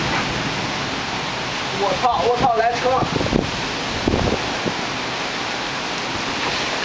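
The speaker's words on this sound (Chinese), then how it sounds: "我第一次见这么大雨。" Heavy rain pours down during a thunderstorm as a steady, loud broadband roar. Excited voices shout over it throughout.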